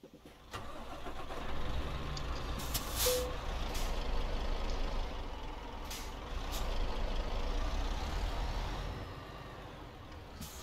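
Engine of a MAN TGX Euro 6 truck in Euro Truck Simulator 2, a low steady rumble with brief hissing air bursts and short tonal chirps, moderately quiet and without talk.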